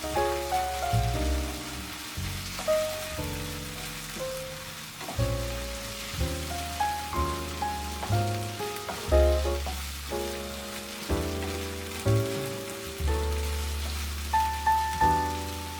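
Spices with kaffir lime leaves sautéing in a pan for an Indonesian eggplant dish, a soft continuous sizzle running under stepped background music from start to end.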